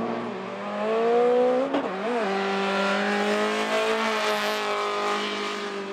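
A D1 drift machine slides with tire squeal, its engine howling at high revs close by, with a brief dip and shift in pitch before the continuous screaming note steadies.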